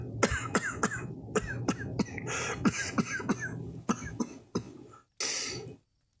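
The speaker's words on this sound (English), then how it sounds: "How long have you had that cough?" A man coughs in a rapid series of about a dozen harsh, close coughs, ending in a short rasping throat clear.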